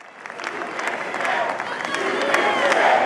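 A Florida crowd gathered for Trump's election victory speech cheering and applauding, dense clapping and shouts building steadily louder over three seconds.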